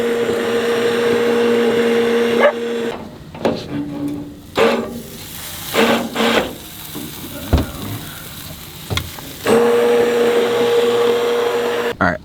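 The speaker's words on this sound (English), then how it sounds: "I never used that immersion blender thing before." An immersion blender running on portable Jackery power in water whirs loudly, stopping for a stretch of intermittent knocks and short bursts, then starting up again near the end.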